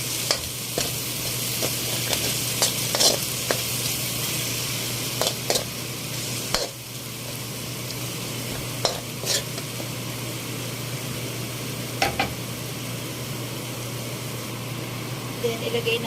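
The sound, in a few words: stirring sautéed ginger, garlic, onion, tomato and shrimp paste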